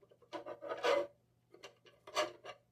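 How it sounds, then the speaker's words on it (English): A plastic action figure is pushed and worked into a plastic display stand's waist clamp, giving close scraping and rubbing bursts of hard plastic separated by brief pauses. "And I have another DC stand we're going to try to put him on or in with this waist clamp."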